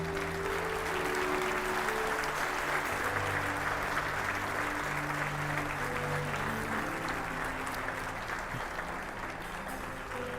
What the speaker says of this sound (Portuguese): Você pode dar ao Senhor mais um forte aplauso.